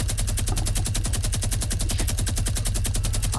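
Rapid automatic gunfire from a Fortnite match, a steady, dense stream of close, loud shots with no pause.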